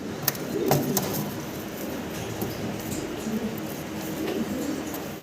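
A pair of blue bar racing pigeons gives soft, low coos, faint and intermittent against a steady background hum.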